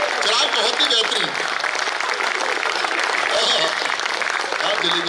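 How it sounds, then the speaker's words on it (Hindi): Audience applause at a live Hindi comedic poetry recital, a dense, steady wash of clapping sustained loudly and evenly throughout, with crowd noise mixed in. "भाई एक बार जोरदार तालियां"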